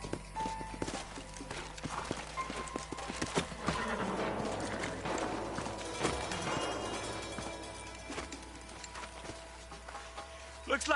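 Horses clip-clop along with an occasional whinny in the Western video game Red Dead Redemption, hooves steady under music and ambient sound, with brief talk audible.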